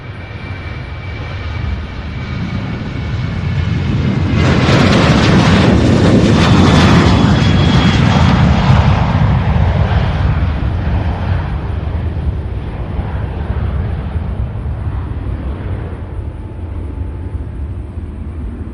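Delta Boeing jet taking off for Atlanta from Louisville's SDF airport: a rumble that swells into a loud, rushing engine roar around the middle, then slowly fades while a thin high whine lingers.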